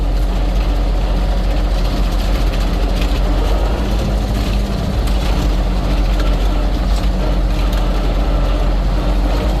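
A tractor engine idles in a field after sunflower harvesting, a loud, steady low rumble that runs without pause and has a dense, even mechanical drone.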